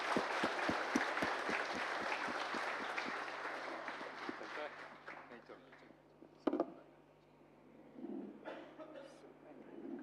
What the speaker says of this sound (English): I request everyone to extend a warm welcome to him with a round of applause